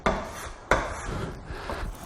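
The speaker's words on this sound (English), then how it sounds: "you just work until all of those furrows are gone from the rasp and you get these nice curly" A rasp scrapes across a wooden edge in two hard strokes followed by lighter, gritty rubbing, close and dry, the rough cutting rasp of smoothing out furrows.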